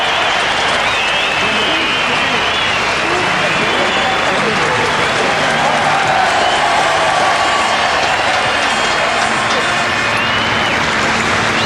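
A huge grandstand crowd roars and cheers Nigel Mansell's win at the 1986 British Grand Prix at Brands Hatch, a loud sustained wall of applause, whistles and whoops with a commentator's voice threaded through.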